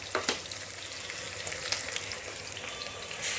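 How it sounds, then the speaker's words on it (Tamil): Onions sauté in a pan with a steady crackling sizzle, punctuated by a few sharp spatters and stirring clicks, with no talk. "வெங்காயம் நல்லா இந்த மாதிரி வதங்குற டைம்ல"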